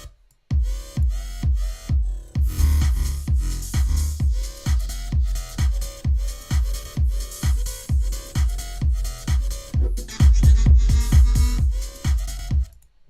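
A bass house drum beat with cymbals, claps, snare and hi-hats pounds in a steady, punchy rhythm, kicks thumping loud and evenly spaced with bright hits on top, growing denser near the end.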